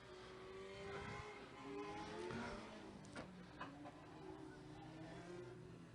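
Race car engines at a speedway practice session, with Legends cars and a 1972 Chevy Chevette with a 3-speed manual on track, producing a steady droning roar with rising and falling engine pitch throughout.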